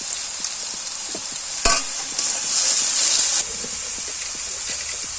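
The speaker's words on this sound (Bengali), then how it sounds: "তো মশলাগুলোকে ভালো করে কষিয়ে নেব।" Spices including turmeric, salt and sugar fry and are stirred in a pan for a chickpea ghugni, giving a steady sizzle with a brief clatter of the spoon and a louder hissing stretch midway.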